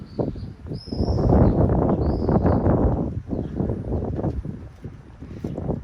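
Strong wind buffeting and roaring across the microphone in gusts during a morning bird flight, with a few faint high chirps above it and no voices.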